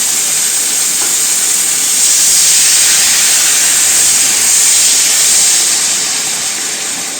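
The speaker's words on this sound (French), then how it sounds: "je vais rajouter un petit peu de vin blanc" White wine poured into endives braising in a hot pan sets off a loud, steady hiss of steam and sizzle that swells in the middle and holds for several seconds, with no voices.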